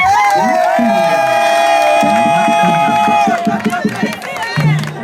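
A concert crowd at Marché Camp Boiro cheers and applauds for the opening act, with loud sustained shouts and whoops over a rough bed of clapping that thins toward the end.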